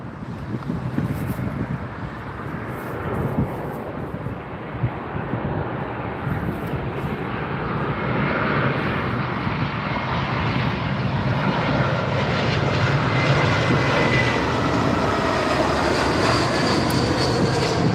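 An airliner on approach to runway 27R at London Heathrow builds from a distant rumble into a loud, broad, sustained engine roar that keeps growing, with some wind buffeting on the microphone.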